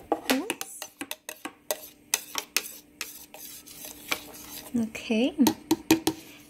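A homemade calcium and vitamin C juice stirred in a glass with a utensil: a string of bright clinks and taps in irregular bursts, close by, with a person briefly speaking between them.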